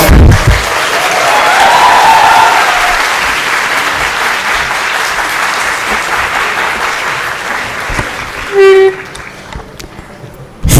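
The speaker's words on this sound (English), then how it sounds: "give the staff and the management a round of applause" An audience at a graduates reception applauds the staff and management with steady, dense clapping that fades toward the end, broken by a brief horn-like toot.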